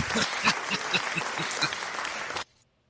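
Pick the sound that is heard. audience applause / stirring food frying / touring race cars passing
audience applause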